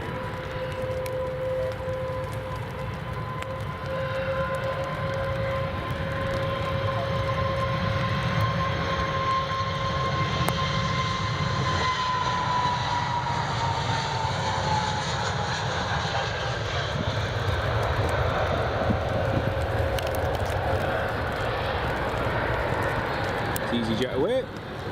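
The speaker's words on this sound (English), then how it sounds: "here goes EasyJet. Newest one in EasyJet's, well, one of the newest A320neos in EasyJet's fleet." An EasyJet Airbus A320neo takes off at Edinburgh Airport, a steady loud engine roar with a high whining tone that slowly shifts in pitch over about twenty-five seconds, while people talk nearby.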